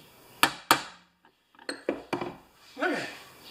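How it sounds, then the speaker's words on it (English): Several sharp metallic strikes on a chrome socket, a pair close together then a few more, ringing briefly like hammer blows on metal. "I'm going to hammer on the chrome ones"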